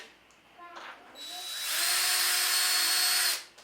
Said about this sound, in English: what I'm going to do is pre-drill this and then thread it in